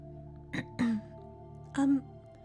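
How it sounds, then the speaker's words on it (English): Two short, gruff throat-clearing bursts, a brief catch followed by a longer rasp, then a third a moment later, close and fairly loud over a quiet hum. "clearing my throat to address"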